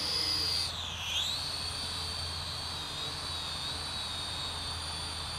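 A Helicute Hero toy drone takes off and flies, its rotors giving a steady, high-pitched whine that dips and then climbs in pitch early on before holding even and close, with no talking.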